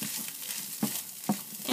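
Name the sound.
stirring hot pepper into frying fried rice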